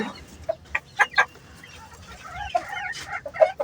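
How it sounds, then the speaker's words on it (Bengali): A backyard rooftop hen clucks in short uneven bursts while laying an egg, close to the microphone, with a few louder squawk-like calls scattered through the few seconds. "দেখেন ডিম পারতেছে"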